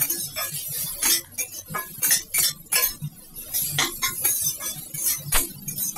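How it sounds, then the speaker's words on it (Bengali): Potatoes and onions with salt and turmeric are stirred in a pan. A utensil scrapes and clinks against the metal in an irregular run of sharp, close taps and scrapes, with no talking. "এর মধ্যে সামান্য নুন দিয়ে দিচ্ছি এবং সামান্য হলুদ গুঁড়ো দিয়ে ভালো করে নেড়ে দিচ্ছি"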